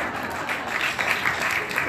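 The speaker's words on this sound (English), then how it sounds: "thank you for that round of applause" An audience at a fan convention breaks into applause, a dense, even wash of clapping with faint crowd murmur, steady and fairly loud throughout.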